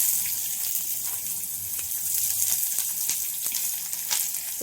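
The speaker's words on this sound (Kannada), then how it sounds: "ಈರುಳ್ಳಿ ಹಾಕ್ತಾ ಇದ್ದೀನಿ." Onions fry in oil with chana dal, urad dal, Byadgi chillies, peanuts and curry leaves for bisi bele bath, giving a steady, close, hissing sizzle with small crackles throughout and no talking.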